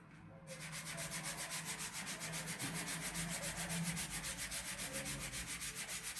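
Sandpaper rubs back and forth on wood in quick, even strokes, a close, steady rasping rhythm that continues without pause.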